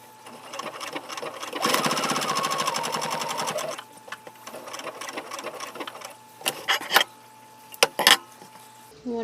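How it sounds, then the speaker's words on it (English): A sewing machine stitching a fabric face mask runs in a steady fast whir for about two seconds, then quieter handling and a few sharp clicks follow. "then we're just going to sew these up"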